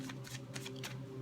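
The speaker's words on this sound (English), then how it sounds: "Second shuffle" Tarot deck being shuffled by hand, a quick run of papery riffling flutters in close succession over a low steady hum, soft and near.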